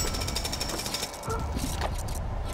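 Rapid mechanical jackhammer drilling from a LEGO City video game drill challenge, a steady close rattling burst that dips briefly midway and then resumes, with faint game effects over it.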